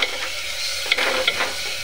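A spoon stirs cauliflower and potato curry with ground spices and salt in a hot pan, giving a steady sizzle broken by a few sharp scraping clinks against the metal.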